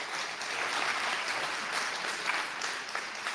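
Audience applause, a dense steady clatter of many hands clapping at moderate distance, sustained throughout the short stretch with no voices on top.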